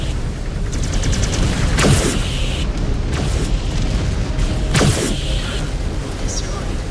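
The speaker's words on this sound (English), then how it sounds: "Reactor breach. Explosion imminent." A mech reactor explodes in the game MechWarrior 5 Clans, booming blasts standing out twice over a constant din of battle and engine noise, with a synthetic voice announcing during the action.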